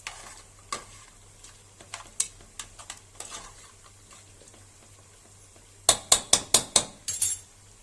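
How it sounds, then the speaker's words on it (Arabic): Garlic cloves and large chili peppers are stirred as they fry in a pan, with a soft sizzle and scattered utensil clicks, then a quick burst of sharp metallic scraping taps near the end. "يلا ندوا التقليبه الحلوه"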